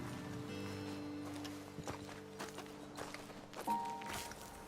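Horses in Red Dead Redemption 2 walking slowly after their riders dismount, scattered hoof clops on the ground over a soft ambient music bed.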